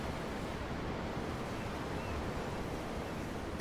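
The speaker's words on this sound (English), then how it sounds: "The ocean? Yeah. The waves." Ocean waves wash continuously in Tales of Arise, seen from aboard a ship, a broad, steady surf roar with a windy hiss and no voices.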